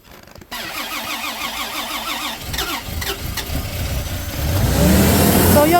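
Car engine cranking in freezing Canadian cold, a rapid rhythmic starter whir that catches and builds into a louder, rising idle near the end, heard close up with no talk.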